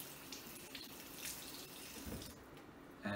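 Cleaned quail rinsed under a running kitchen tap: a steady stream of water splashing into the sink with small shifts as the birds are handled, fairly quiet and close, no speech.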